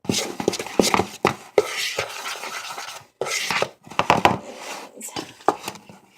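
A knife stirs dry snickerdoodle ingredients—flour, sugar, baking soda and cream of tartar—in a bowl, giving repeated scraping, rubbing and clinking strokes in irregular bursts, close and moderately loud, with brief pauses.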